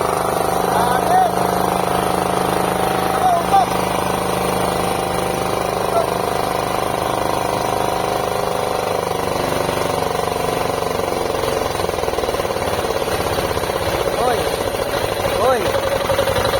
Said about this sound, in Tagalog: Diesel! Diesel! Diesel!